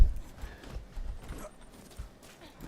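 A horse's hooves clip-clop in the video game Far Cry 6: soft, low, uneven thuds close by, fairly quiet, over faint game ambience.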